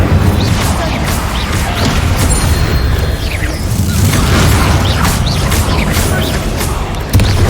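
The Incendio fire spell cast in Hogwarts Legacy, a loud dense burst of whooshing flame and booming impacts that roars continuously in the game's combat, with a sharp hit near the end.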